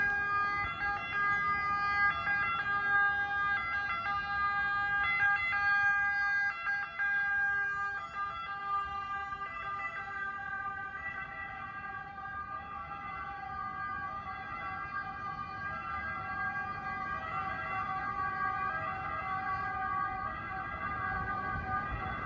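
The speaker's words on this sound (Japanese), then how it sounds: "遠くから救急車のサイレンが聞こえてきます。" A wailing ambulance siren cycles steadily throughout near Florence central station, Italy, loud and close, its tone warbling over distant traffic noise with no talking.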